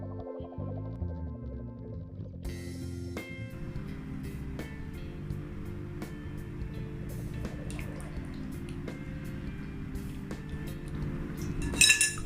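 Whey drips from cheesecloth-wrapped cheese curds set in a strainer, a sparse run of faint, irregular drips and small clinks over a steady low background hum.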